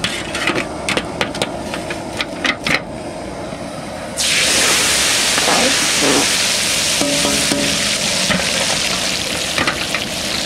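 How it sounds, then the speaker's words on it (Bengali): Eggplant deep-frying in oil in a village outdoor kitchen, a loud steady sizzle that swells up suddenly midway and holds, with scattered clatter and knocks before it. "একদিকে মাংস রান্না হচ্ছে আর আমি ডুবো তেলে বেগুন ভেজে নেব।"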